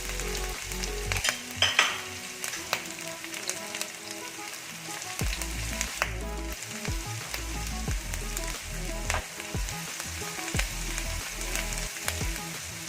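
Ginger garlic paste and green chilli frying in hot oil for masala stuffed puri, a continuous close sizzle broken by frequent spoon scrapes and stirring clatter, with no voices.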